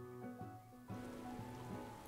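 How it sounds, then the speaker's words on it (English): Rain falling in the video game Final Fantasy XIV, in a desert setting, with a steady hiss of drops that sits under tonal game music. "Oh, it's raining."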